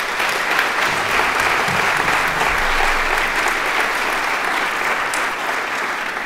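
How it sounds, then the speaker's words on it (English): Sustained applause from a large audience at an awards ceremony, dense and steady clapping filling the room without letup. "So give yourselves a round of applause."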